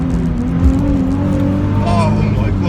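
A 2005 Nissan 350Z with a Miltek exhaust drives hard, its engine note a loud, close, steady drone with a brief rise in revs near the end, heard from inside the car.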